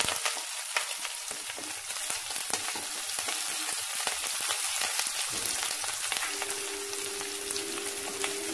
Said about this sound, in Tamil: நல்லா வதங்கட்டும் கொஞ்சம்.